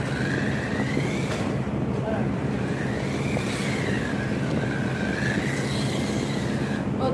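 A remote control car drives and drifts on a road, its small electric motor whining steadily and rising and falling in pitch as it speeds up and slides, close and continuous without a break.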